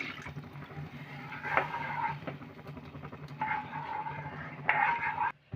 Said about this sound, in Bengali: জল দিলাম